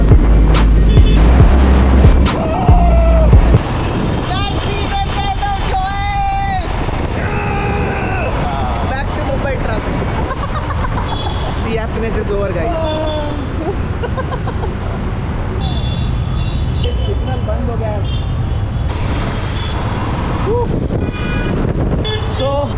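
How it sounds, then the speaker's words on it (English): Royal Enfield Bullet 350 Electra motorcycle ridden on an evening road, its engine a steady rumble under heavy wind buffeting on the microphone, with voices talking over it. "a bullet 350 Electra, and here we go."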